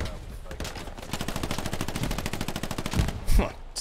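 Sustained machine-gun fire in Hell Let Loose, set in the Hürtgen Forest: a rapid, even burst of close shots for several seconds, ending in a couple of heavier bangs.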